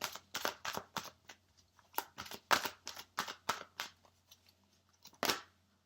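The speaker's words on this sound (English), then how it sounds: "Okay, we've given them a good shuffle." A Wisdom of Oracle card deck being shuffled by hand: a quiet, close run of crisp, papery riffling bursts in quick irregular succession, with a final louder burst near the end and no talk over it.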